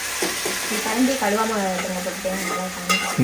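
Tomatoes sauté in a pan for a dried-fish curry, a close, soft sizzle with stirring scrapes beneath a voice talking over it.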